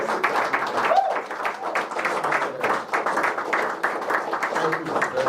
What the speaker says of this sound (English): Let's just clap.